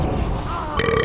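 A single short, loud burp right up close, a throaty gurgle that rises at the end into a brief voiced tail.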